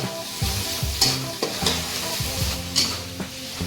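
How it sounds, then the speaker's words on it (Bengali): Onions with ginger and garlic frying in a pan while a utensil stirs them, bright sizzling under repeated scraping strokes of the spoon against the pan, close and fairly loud. "তো আমরা পাঁচ মিনিট মতো নাড়াবো"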